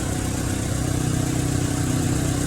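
A 2004 Suzuki Caribian's 1.3-litre, 1300cc four-cylinder petrol engine idles steadily and loud up close, a low even rumble with no voices.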